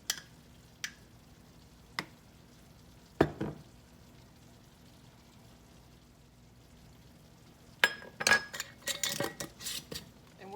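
Leftover cream potatoes and Parmesan cheese are stirred with a utensil in a kitchen bowl, giving a few sharp isolated clinks early, then a busy burst of scraping and clattering strokes near the end, with no talking.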